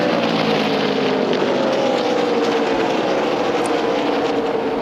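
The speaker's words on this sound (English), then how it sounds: "That's not how an engine's supposed to sound." A NASCAR race car at the 2012 O'Reilly Auto Parts 300 after its engine blew, giving a steady, loud broadband roar with a wavering drone, no talk over it.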